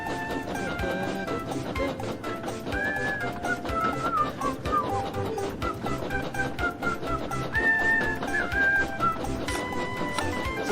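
A man whistles a tune, a run of clear, bright sustained notes rising and falling over busy background music, close and fairly loud throughout.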